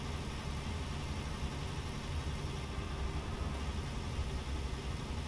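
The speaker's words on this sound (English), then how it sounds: "loud engine noise, I guess, that I could have turned down" Truck engine droning steadily in the Euro Truck Simulator 2 driving game, a loud continuous low rumble with noisy hiss and no change in pitch.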